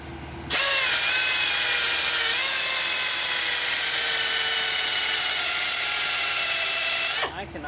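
A power drill fitted with a larger bit bores into metal on a broken sweeper, a loud steady whine running about seven seconds with a slight pitch sag, then stopping abruptly.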